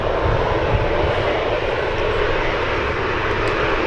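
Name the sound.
SkyWest Embraer E175 jet landing at San Francisco airport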